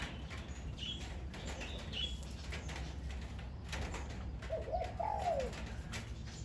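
A nok mongkol songbird, a Thai ornamental bird, gives a short, faint whistled phrase amid steady outdoor background hiss, with a brief soft chirp earlier and the clearest call near the end.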